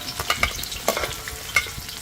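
Onion dropped into warm oil in a backyard pot for crab curry, giving a low steady sizzle with a few sharp scrapes and clicks of stirring, close and moderately quiet, no voices.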